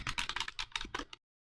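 Rapid keystrokes on a computer keyboard as a sudo snap login command is entered, a quick dense run of clicks for about a second, then silence.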